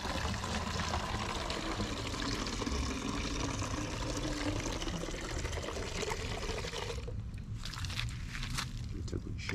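Water streams steadily from a watering container onto potted plants in a home vegetable garden, a continuous close pour that tapers off near the end.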